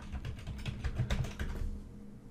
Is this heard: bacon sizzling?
no